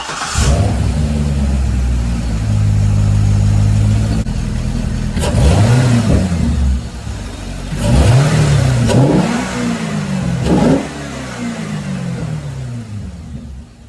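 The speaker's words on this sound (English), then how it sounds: "Now let me do a startup for y'all and we'll see what it sounds like." A car fitted with an SLP Blackwing aftermarket air intake starts up and idles loudly up close, then is revved sharply several times, each rev rising and falling back to a rumbling idle.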